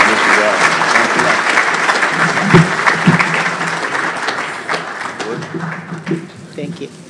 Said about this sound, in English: Now that they're all here, can you give them one last round of applause?